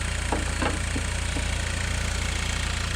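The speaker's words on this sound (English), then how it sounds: "the engines run very well and strong right here" A 2014 Ford Focus SE hatchback's 160-horsepower inline four-cylinder engine idling steadily up close, a low even rumble with a faint ticking pulse and no talk.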